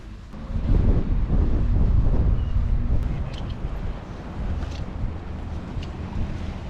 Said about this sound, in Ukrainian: такий сильний вітер пробирає